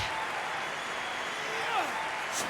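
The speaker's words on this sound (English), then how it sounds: "The crowd is going crazy." A wrestling event crowd cheers and roars in a steady, dense wash of noise throughout, with faint whistles rising over it.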